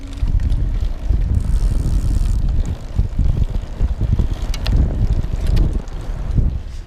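Surface 604 YunBike C1 electric bike riding along with assist engaged, mostly steady wind rush and low road rumble across the whole stretch, with no motor whine standing out.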